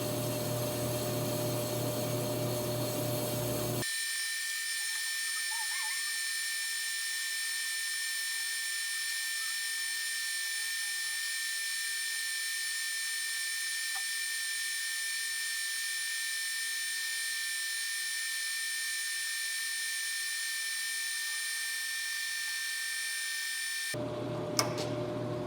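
An Ammco brake lathe cuts a brake rotor with a steady, continuous mechanical whir and drone that holds at an even level from start to finish, with no talking.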